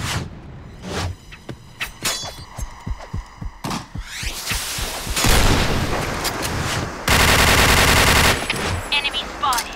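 Rapid automatic gunfire bursts and single shots in the online shooter Point Blank during a clan war on the Downtown map, with loud sustained volleys in the second half and short radio-style voice callouts between them.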